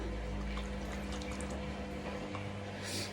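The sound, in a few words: rinsing a makeup brush with water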